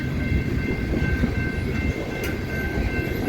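A manifest freight train rolls past close by, a loud continuous rumble of cars with rhythmic wheel clatter and a steady tonal ring, no voices.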